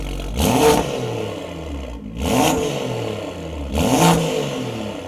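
Car engine revving in comfort mode after an install, three loud rising blips spaced about 1.7 seconds apart, each with a deeper, barking exhaust note over a steady idle.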